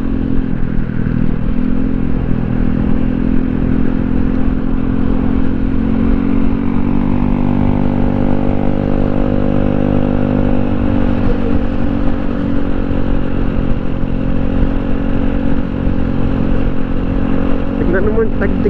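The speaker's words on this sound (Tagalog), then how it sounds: "Tignan nyo yung tunog ng X-Max." Yamaha X-Max scooter engine drones steadily at a constant pitch while riding, loud and close, with a slight rise and dip in revs.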